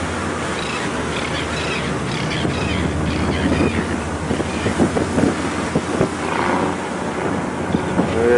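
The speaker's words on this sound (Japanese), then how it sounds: "エンジンの音がひときわ高くなりました。" Japan Coast Guard boat engine at sea rising in pitch and loudness, a steady low drone swelling toward the end under buffeting wind noise, with faint voices in the background.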